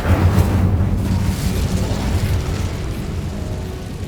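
An Incendio fire spell cast in Hogwarts Legacy bursts out as a loud, dense whoosh and roar of flame. It holds steady with a heavy low rumble for about four seconds.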